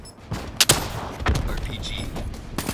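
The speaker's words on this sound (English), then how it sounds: "Reload the rocket launcher." A rocket launcher fires in the video game Black Ops 3, with sharp blasts and explosive bangs under a player's voice amid game noise.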